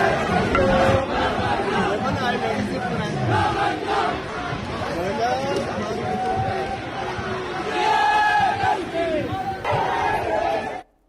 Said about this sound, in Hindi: सुनिए, देखिए वो नारे लग रहे हैं